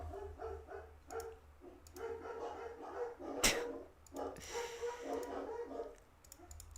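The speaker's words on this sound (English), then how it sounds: "The dogs are going crazy." Several dogs bark in repeated short bursts at a moderate distance, the barking steady and restless with clicking noises and no talking.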